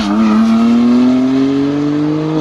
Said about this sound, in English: It sounds like a turbocharged inline engine.